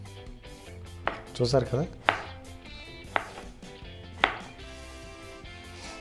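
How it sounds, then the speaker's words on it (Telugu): Raw banana sliced with a knife into thin finger strips on a cutting board, several sharp separate chops close up with a brief clatter, and a voice speaking briefly. "ఈ విధంగా సింపుల్గా సన్నగా కట్ చేసుకోవాలి మనం"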